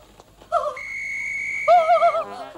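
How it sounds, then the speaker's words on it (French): A cartoon whistle, probably a high, wavering, tooting tone, sounds in short bursts. A long, sustained shrill note sits between the warbling phrases, clear and close, with little else in the background. "Je vais bientôt siffler."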